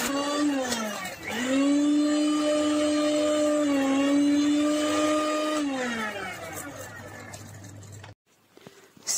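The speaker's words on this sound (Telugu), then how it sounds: "మనం మిక్సీ పెట్టేసుకున్నాం." A mixer grinder blends cooled ingredients in a home kitchen, a loud, steady motor whine held for about seven seconds with a brief dip early on, then cut off and followed by quiet.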